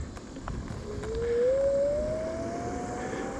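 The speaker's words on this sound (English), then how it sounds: "Because you can hear the motors." A Zero 9 electric scooter's motors give a thin rising whine as it speeds up, the tone climbing steadily over a few seconds against steady road and wind rumble.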